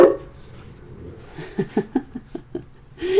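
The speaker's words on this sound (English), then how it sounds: "Do you love hearing the puppy in the background?" Puppy yelping in the background of a home, a run of short, rhythmic yips of moderate loudness with some brief vocal sounds close by.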